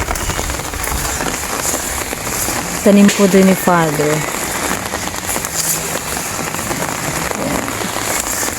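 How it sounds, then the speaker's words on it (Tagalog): Steady rain patters on surfaces outdoors beside someone picking cassava shoots, a dense continuous hiss with brief speech partway through. "Ulan guys."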